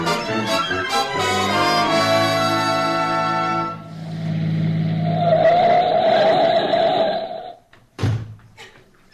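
A car drives off as a radio-play sound effect: the engine revs, then rises into a loud whining acceleration with a skidding hiss before cutting off, followed by a short thump.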